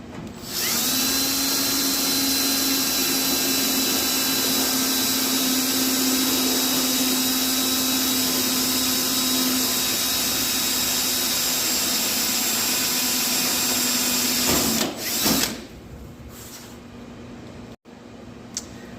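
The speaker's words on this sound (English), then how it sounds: "I just let the drill bit do its work." Power drill boring 1/8 inch holes in a metal dash panel for an 88-94 OBS truck kit, a loud steady whine held for about fifteen seconds before cutting off and spinning down, then near silence.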